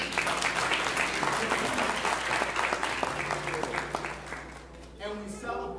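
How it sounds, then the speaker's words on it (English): Church congregation applauding on Easter Sunday morning, broad clapping from many people with voices and cheers mixed in, fading near the end as speech takes over. "Y'all clap."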